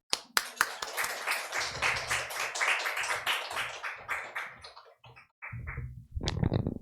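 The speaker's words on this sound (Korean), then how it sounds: "나오실 때 큰 박수로 환영하겠습니다" Church congregation clapping to welcome a pastor to the pulpit at a Sunday service: a few scattered claps build into dense applause, thin out near the end, then a brief louder burst closes it.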